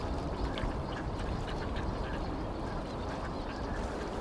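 Common mergansers quack in short bursts on the Han River over a steady rush of flowing water, the calls soft and somewhat distant.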